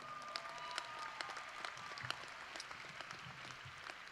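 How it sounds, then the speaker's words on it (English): Applause from the audience at a 2018 Northeast State graduation ceremony, honouring the pianist: a steady wash of many hands clapping at moderate distance, with a few sharper individual claps standing out and no talk over it. "let's give Jim, our pianist, a big round of applause"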